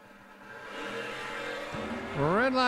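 A Mopar Performance Dodge Dart drag car at an old-time drag strip idles with a steady engine note, then launches hard near the end, its revs rising loudly in a sweeping climb, with an announcer's voice faintly underneath.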